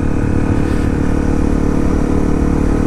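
A Honda CRF250L motorcycle engine runs while riding on a country road, a loud, close, steady mid-pitched drone with rough clattering texture and wind noise that holds constant throughout.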